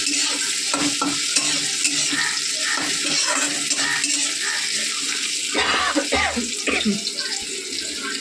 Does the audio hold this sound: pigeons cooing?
no